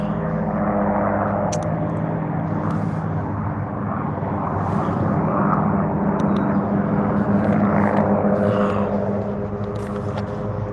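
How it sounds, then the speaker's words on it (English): A couple of helicopters pass overhead near a catfishing spot, a loud, continuous engine and rotor drone lasting throughout with slight swells and no talking. "There's a couple of helicopters."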